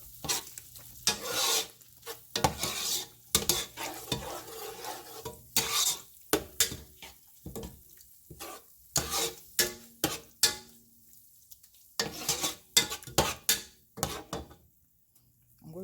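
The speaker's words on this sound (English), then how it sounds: "This is my grounded meat. I'm going to fry it a little bit." Ground meat fries in a pan for party jollof rice, heard as intermittent scraping and stirring bursts with faint sizzling between, interrupted by clattering kitchen knocks, fairly quiet and close.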